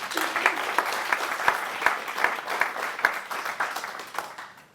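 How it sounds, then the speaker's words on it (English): An audience at a television development masterclass applauds its panel, with steady, moderately loud clapping from a room full of people that begins to fade at the end. "So can we kick off really with a round of applause for our panel"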